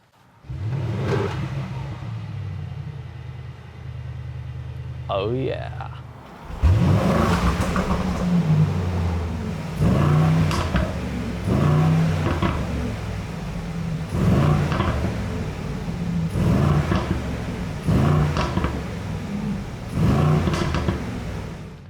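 A 2021 Mercedes-AMG GLE 63 S V8 fires up with a sharp bark, then revs repeatedly in loud, rhythmic bursts over a burbling idle, with a brief voice at one point.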